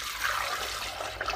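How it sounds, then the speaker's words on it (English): Filtered water pours from a container into a blender holding soaked almonds while almond milk is being made, a steady close splashing gush that runs evenly with no talk. "And then I'm going to add 4 cups of filtered water,"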